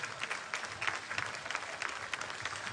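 Audience applause at an outdoor city-days concert in Suceava, Romania, a fairly distant, steady patter of many hands clapping with light rhythmic swells.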